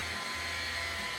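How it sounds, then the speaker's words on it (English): Drill boring new threaded holes into a metal mounting plate in a car workshop, a steady high whine held briefly and fairly faint, with no talk. "I'm going to drill new threaded holes to actually mount the master"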